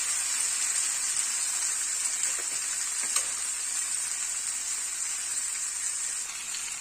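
Cucumber pieces sauté in a covered pan over a low flame, giving a continuous, even sizzle with a soft hiss and no voices.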